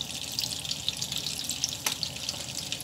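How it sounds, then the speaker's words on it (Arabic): Butter melting in a pan ahead of chicken fajitas, a faint, steady crackling sizzle with small pops, quiet and continuous with no talking. "كده الزبدة بتاعتنا ابتدت تسيح زي ما احنا شايفين كده"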